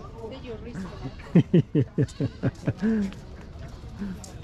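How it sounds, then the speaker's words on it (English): A goat in the streets of Varanasi, India, bleats in a quick run of about eight short, loud, pulsing calls that end in one longer drawn-out bleat, close by, with faint street noise behind. "Foreigner headbutted by goat in Varanasi."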